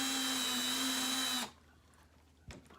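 A power tool runs with a loud, steady whine and hum, then cuts off abruptly partway through, followed by near silence and a brief clunk.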